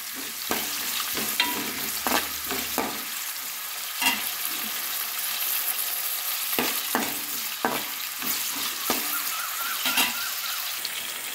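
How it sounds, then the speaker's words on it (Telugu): Coarsely crushed onion and green chilli fry in a pan with a continuous sizzle, broken by repeated sharp scrapes and knocks of stirring at irregular intervals, close and alone without voices. "కచ్చా పచ్చాగా దంచుకున్న ఉల్లిపాయ, పచ్చిమిరపకాయ వేసి వేయించాలి."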